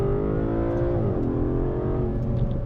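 A 630 hp Aston Martin DB11 AMR engine roars steadily, then its pitch drops sharply at a quick gear upshift and climbs again, loud and close.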